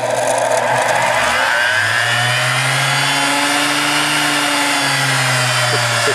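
A Premier Mill Dispersator Series 2000 Model 90 laboratory mixer spins up, its steady motor whine rising smoothly in pitch as it accelerates, loud and close with no talk.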